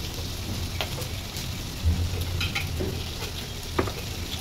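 Turmeric powder stirred into a sizzling frying pan: a constant close hiss of hot oil with soft spoon scrapes and a couple of louder taps against the pan.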